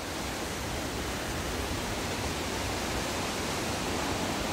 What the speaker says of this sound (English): Just the sound of these rapids and this water, it is so soothing when you come through here.